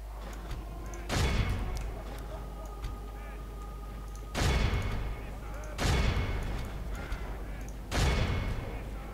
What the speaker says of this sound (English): Why not fire all the arrows?